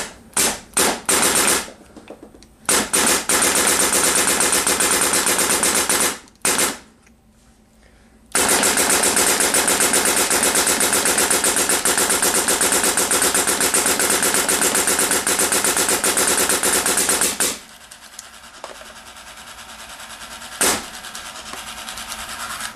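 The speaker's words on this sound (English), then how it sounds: "That was 10 BPS ramping, and that's Frank's DM5." A Dye DM5 paintball marker fires in rapid ramping bursts at about 10 balls per second, loud sustained strings of shots broken by a few short pauses, with no talking.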